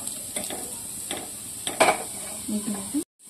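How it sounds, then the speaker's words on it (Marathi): Garam masala and amchur powder are stirred and sautéed in a pan for aloo tikki burger filling, with a spatula scraping and clinking several times over a steady frying hiss before an abrupt cutoff. "मसाले घातल्यानंतर 1 मिनिटभर याला परतून घेऊया।"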